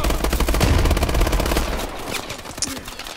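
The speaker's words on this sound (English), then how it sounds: "I forgot this is a really fast firing gun" Rapid automatic fire from a fast-firing gun in the futuristic shooter Call of Duty: Advanced Warfare, a loud, dense rattling stream of shots that runs almost unbroken for about two seconds before tapering into quieter game sounds.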